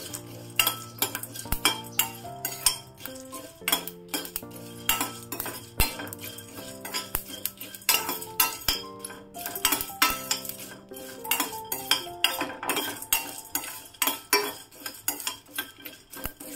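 Masala chai spices being dry-roasted in a pan over a low flame, with steady metallic scraping and clinking of a spoon against the pan throughout, close and fairly loud, no talking.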